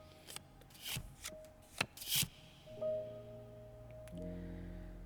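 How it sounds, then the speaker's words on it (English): Tarot cards in The Cosmic Wheel Sisterhood video game get shuffled in a few quick, crisp rubbing bursts, followed by sustained chiming musical tones with no talking. "while I shuffle my deck"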